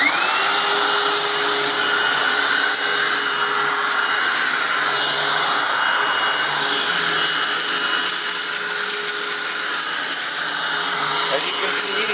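A Hoover WindTunnel Anniversary Edition self-propelled upright vacuum, model U6485900, runs steadily indoors, a loud continuous whine and rushing airflow with a faint high tone, unbroken for the whole stretch.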